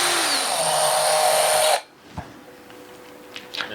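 A power tool backs screws out of the bottom plate of a Harbor Breeze ceiling fan, a loud steady whine for about two seconds that cuts off abruptly, followed by faint clicks and handling noises.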